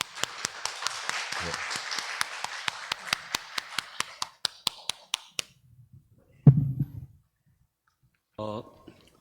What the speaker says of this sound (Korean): 우리 선교사님 나오실 때 우리 큰 박수로 맞이하도록 하겠습니다.